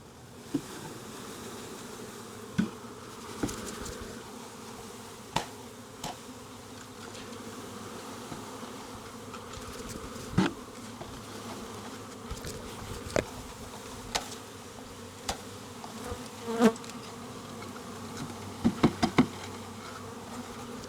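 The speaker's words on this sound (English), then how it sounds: "tap the bees down one more time, and then just simply dump them into the hive" Steady buzzing of many honeybees being tapped down and dumped into a top bar hive fills the air, with scattered soft taps and knocks rising over the drone, busier toward the end.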